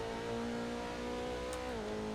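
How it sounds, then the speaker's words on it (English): A race car with a motorbike-like engine in Assetto Corsa revs high and steady, its engine note holding and then dipping briefly, heard alone with no talk. "Sounds like this car might have a motorbike engine in it"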